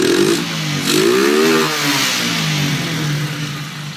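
A 125 cc Italika motorcycle fitted with a high-flow air filter revs up and down through several throttle blips. The engine note is loud, close and sustained, with no talking.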